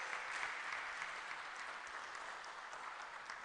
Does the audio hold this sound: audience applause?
yes